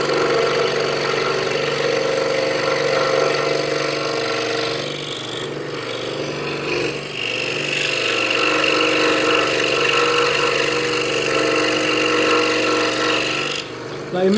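Scroll saw cutting a wooden Jesus figure, a steady rasping buzz of the fine blade through wood that runs almost without a break, with a short dip midway and another near the end.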